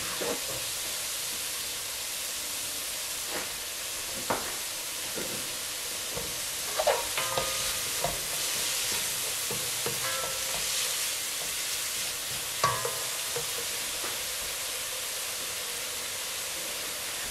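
Green onion is stirred into a frying tripe stew (mondongo) in a pot, with a continuous loud sizzle and hiss broken by scattered scraping and clinking of the spoon.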